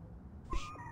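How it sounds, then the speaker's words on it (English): A pet cat creature in the video game Astroneer gives a single short, soft meow over a quiet game background, with no speech. "So you're definitely a cat"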